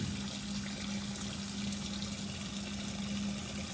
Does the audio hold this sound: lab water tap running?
yes